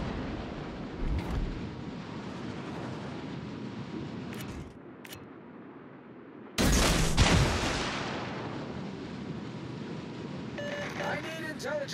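Naval gunfire booms in the video game USS Black, with a sudden loud blast midway that decays into a rumbling tail, set among continuous battle noise.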